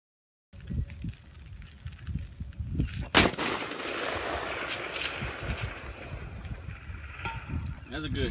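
A Ruger Precision Rifle in 6.5 Creedmoor fires once outdoors on a farm, a sharp loud crack followed by a long rolling echo, with wind noise and a little faint talk around it.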